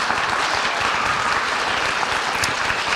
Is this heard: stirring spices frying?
no